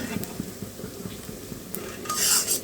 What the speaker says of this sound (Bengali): এদিকে কিন্তু পেঁয়াজটা আমার ভাজা ভাজা হয়ে গেছে